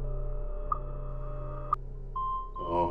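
Radio tones ring out on an operations channel: a steady sustained beep near mid-pitch with two sharp clicks before it, then a fresh burst of noise at the end over a constant low hum.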